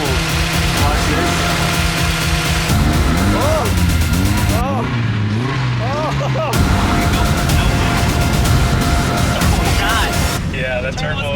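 A car engine with a blown turbo runs loudly and roughly throughout, with pitch sweeps as the revs rise and fall, a brief drop partway, then a loud rough run again. People talk over it.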